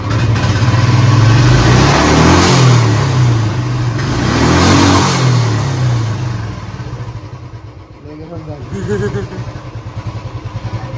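A motorcycle engine being warmed up roars loudly and close with rising revs and surges, then drops to a rougher idle with clattering pulses and another brief rev near the end.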